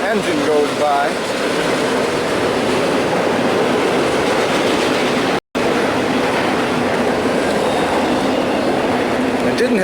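A train engine rolls past in Kentucky with a continuous loud rumble and rushing noise that fills the whole stretch, broken only by a brief dropout near the middle.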